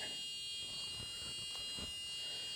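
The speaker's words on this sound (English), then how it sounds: "That alarm went off in the closet and something went right out of there." An alarm going off inside a closet, a faint steady electronic tone held throughout the short stretch in a quiet room.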